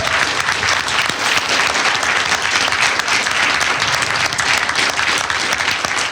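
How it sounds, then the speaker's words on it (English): A live audience at a comics convention new-talent panel breaks into sustained applause, a dense steady wash of many hands clapping from start to finish without pause. "I think they deserve a huge round of applause"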